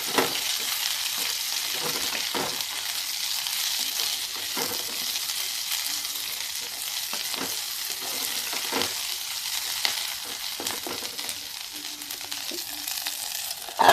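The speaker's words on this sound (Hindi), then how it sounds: "ये अब डाल देते हैं अपनी मिर्च और इसको भून देते हैं।" Green chillies sizzle and fry steadily in a pan for a sweet-and-sour pickle, a continuous broadband hiss broken by occasional stirring scrapes and light clinks, close and fairly even throughout.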